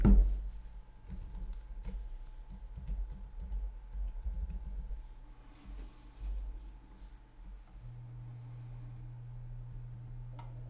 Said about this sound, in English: put in our password.